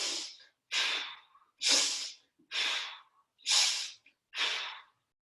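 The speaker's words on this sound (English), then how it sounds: "Let's do 5 deep breaths" Five or six deep breaths during a seated elastic-band exercise class, each a loud, close whooshing exhale lasting about half a second, spaced evenly with short quiet gaps.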